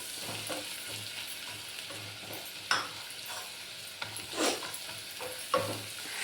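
Spice paste of cardamom and cumin frying in a pan for vegetable masala rice, a soft sizzle with several short scraping strokes of a spatula at irregular intervals.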